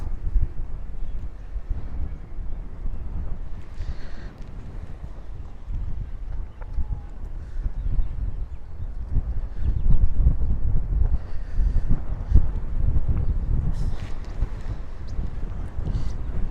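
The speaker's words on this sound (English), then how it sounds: "It's very windy." Strong wind buffets a camera microphone outdoors, a steady low roaring rumble that swells in heavier gusts partway through and runs unbroken, loud and close, with no voices.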